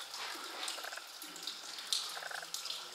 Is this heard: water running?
yes